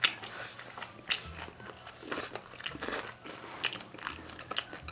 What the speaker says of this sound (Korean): 껍데기 씹힌 게 아, 진짜 맛있습니다.